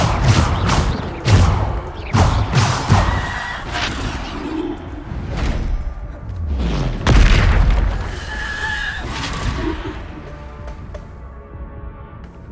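Bombarda blasting spells explode in a Harry Potter video game, a series of loud booming bursts and thuds in the first half followed by another heavy blast and rumbling debris, fading toward the end.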